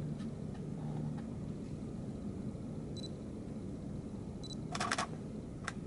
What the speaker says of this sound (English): as you can see, the shutter button's working just fine